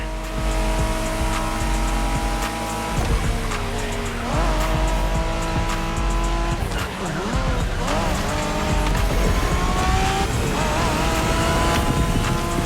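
Japanese street racing cars in The Crew Motorfest video game, engines revving loudly with squealing, skidding tyres through corners, a continuous close roar with shifting pitch.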